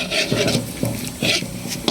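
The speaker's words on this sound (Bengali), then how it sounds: "একটুখানি জল দিয়ে দিয়ে তারপরে আবার কষাতে শুরু করছি" A spatula scrapes and stirs rhythmically in a large wok, frying spices with a little added water, a steady sizzle underneath, strokes repeating about every half second.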